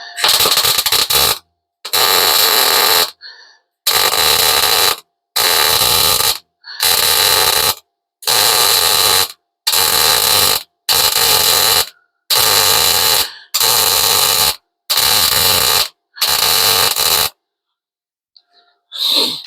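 Repeated bursts of tack welding on a metal part, about a dozen loud, crackling arcs of roughly a second each, separated by short silent gaps, close up with no talking.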